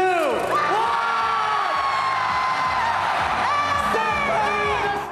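A large audience at a live event cheers and whoops loudly after Stephen Curry sinks a three-pointer, the roar sustained and close, with shouting voices and children's yells rising over it.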